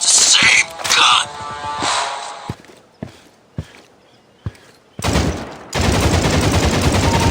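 Gunfire in the mobile shooter game Critical Strike during a team deathmatch: an opening burst, several sharp single shots spaced across the middle, then loud sustained automatic fire to the end.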